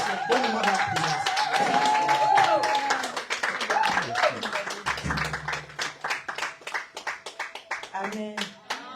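A church congregation claps during a service, with dense clapping under voices at first, then thinning into sharp, separate claps toward the end.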